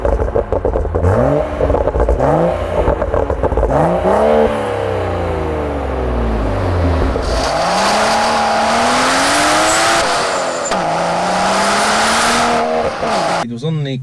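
A BMW M135i/M140i engine with an M Performance back box exhaust revs hard and loud, pitch climbing and falling through several sweeps, with a deep raspy exhaust note throughout.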